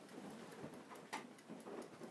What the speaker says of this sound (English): It might just be really heavy rain, actually.